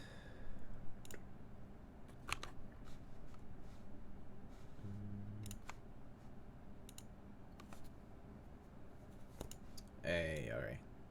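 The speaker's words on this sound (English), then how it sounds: "And open up the typing test." Scattered clicks of keys being typed on a computer keyboard during a typing test, quiet and intermittent, with a brief burst of talking near the end.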